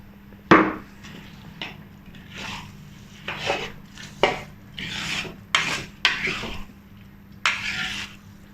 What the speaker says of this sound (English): Now we add about 100 grams of onion into it and cook further.